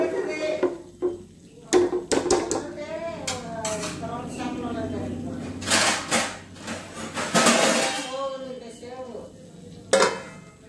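A spoon scraping and clanking in a pan while stirring Rayalaseema-style fish curry to fry it, with intermittent metallic knocks and a brief bright clink near the end.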